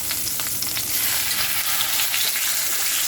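Onions sizzle and fry in a pot as the base for Mexican pozole, a steady close crackle with small pops and no talking.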